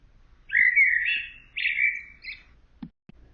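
A blackbird sings a short phrase of two clear, fluting whistled notes, fairly close against a quiet background, followed by a couple of faint clicks.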